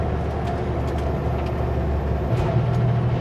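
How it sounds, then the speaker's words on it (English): A heavy semi truck rumbles down a narrow, twisty Canadian mountain highway with its engine brakes engaged, a loud continuous low drone that deepens into a steady throbbing tone near the end. "I don't have engine brakes on. Let's turn those on."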